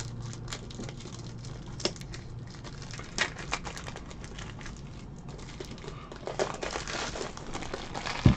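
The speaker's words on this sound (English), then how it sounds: "Let me open up some top loaders here." Plastic top loaders for baseball cards being opened up: scattered crinkling and clicking plastic handling close by, with irregular sharp snaps and light rustling throughout and no speech.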